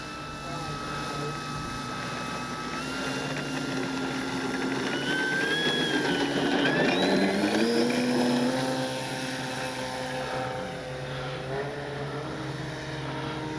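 A small 10cc engine on an RC Hangar 9 Piper Cub model airplane buzzes steadily at moderate distance, its pitch rising and falling as it maneuvers through the air, with faint talk underneath.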